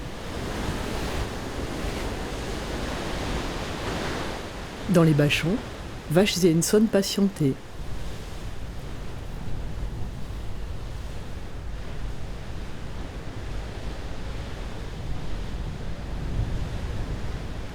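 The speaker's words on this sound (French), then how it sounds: "les vagues de la tempête Kiran, observées au pied de la mer sud de Cailleux-sur-Mer" Storm waves and strong wind on the sea front at Cayeux-sur-Mer during Storm Ciaran, with gusts up to 137 km/h: a steady, loud roar of surf and wind throughout, with a short burst of speech in the middle.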